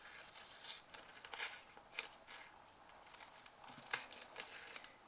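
Scissors trim a piece of vellum card paper down. Faint, crisp snips and light paper rustles come at uneven intervals in a quiet room.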